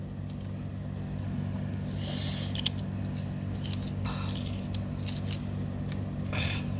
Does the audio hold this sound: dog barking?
no